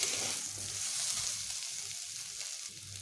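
Crushed garlic stirred and fried in a pan for a bitter gourd vegetable dish, giving a steady close sizzle with soft scraping from the stirring and no voices.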